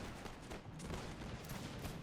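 Ragged musket volley fire in the video game Born in the Fire: America, a Bunker Hill battle, with dense overlapping cracks rolling continuously through the moment at moderate distance.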